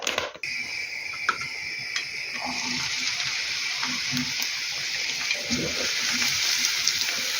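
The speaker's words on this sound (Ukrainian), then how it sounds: "І так просмажу трошечки, трошечки так і смажу до е, золотесенької такої, щоб вона була." Chopped onion fries in oil in a pan for a cabbage varenyky filling, giving a steady, close sizzle that holds through the whole stretch with a few faint clinks and stirring sounds.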